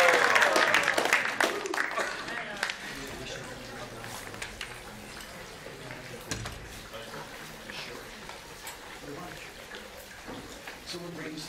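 Applause from the audience at ISKCON San Diego's Sunday Feast Program, a temple gathering, starts dense and loud and then thins and fades, with voices murmuring underneath.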